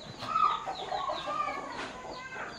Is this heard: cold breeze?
no